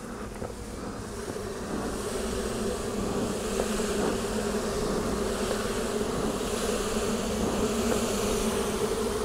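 Honey bees swarm and buzz steadily around an opened backyard hive being inspected for hive beetles, a dense continuous drone close by that holds even throughout.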